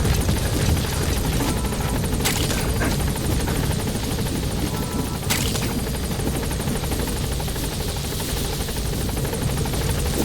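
A helicopter hovers at a landing zone in Metal Gear Solid V, its loud steady rotor chop and turbine whine running continuously and close throughout, with no voices.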